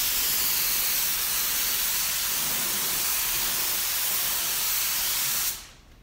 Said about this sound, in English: I spray the edges first